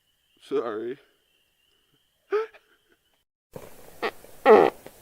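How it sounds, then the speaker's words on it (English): Short, close flatulent bursts occur, one at the start and one near the middle, before a noisier stretch with further brief bursts against faint room hiss. "I just farted."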